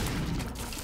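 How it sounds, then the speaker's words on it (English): Dense burst of bomb explosions in The Binding of Isaac, a loud continuous crackling boom filling the short moment with no pause. "We put bombs in your bombs."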